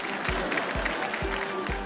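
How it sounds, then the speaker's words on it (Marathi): Applause from a studio audience at a Marathi women's game show, a steady, dense patter of many hands clapping close by, with a few heavier low thumps on the beat and no speech over it. "एकदा जोरदार टाळ्या होऊन जाऊ."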